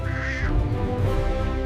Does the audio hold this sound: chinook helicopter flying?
no